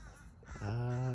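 Crows calling in a backyard, a few harsh caws rising in the second half, fairly close and loud against faint outdoor background.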